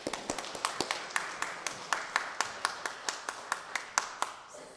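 A church congregation gives a round of applause during a Sunday service; the clapping is sparse and fairly quiet, a few individual hands striking in a loose, steady rhythm rather than a dense ovation.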